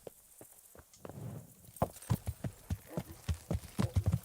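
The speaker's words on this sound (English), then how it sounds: "Horse!" Hooves of a horse clip-clop in a video game, a series of distinct knocks that starts faint and sparse and then becomes louder and closer in a steady walking rhythm, with no talking over it.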